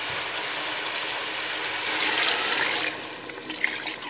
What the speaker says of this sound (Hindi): अब मैं डालती हूँ इसमें यखनी।